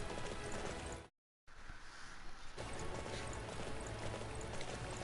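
Horse hooves galloping along roads in Dynasty Warriors 9, a steady clip-clop with mechanical clatter that runs throughout, broken by a brief silent gap near the start.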